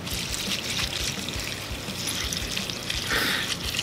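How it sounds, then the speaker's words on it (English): Milk pouring into a massive bowl of Fruity Pebbles cereal, a steady close liquid trickle and splash that runs without pause and swells slightly near the end, with no talking. "I'm gonna start pouring the milk in"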